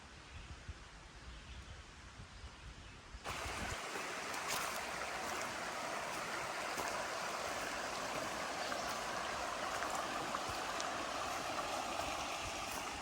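Gentle creek water burbling and flowing continuously, fairly quiet, with a soft rustle and no voices.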